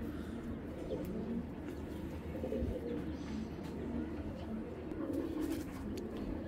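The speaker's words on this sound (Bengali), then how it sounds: "এত সুন্দর একটা বিগ সাইজের কবুতর," Large pigeons cooing at a bird market or loft, a low steady murmur of coos over dense, continuous background noise with no clear talk.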